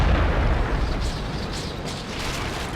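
A tank cannon fires in the World of Tanks video game, a single heavy boom at the start that rolls into a long, loud, rumbling blast and tails off slowly.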